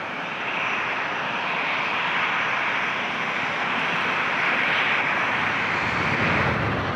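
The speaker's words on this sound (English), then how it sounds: "Why is everything so loud right now with the planes?" Steady, loud roar of aircraft engines from planes landing near Toronto Pearson airport, a broad continuous rumble that swells slightly toward the end, with no other sounds standing out.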